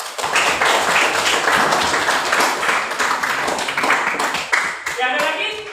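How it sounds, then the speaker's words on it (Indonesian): A group of people claps together in a room, a dense, loud burst of clattering applause that carries on for several seconds and thins out at the end, with voices mixed in. "Oke, aplaus."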